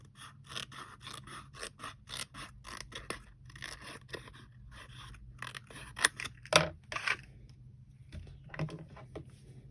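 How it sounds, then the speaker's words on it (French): Scissors snip a small piece of paper for a scrapbook-style handmade book. The cutting comes as a quick series of close, crisp snips with a few louder scrapes partway through. "Je vais même couper un petit bout."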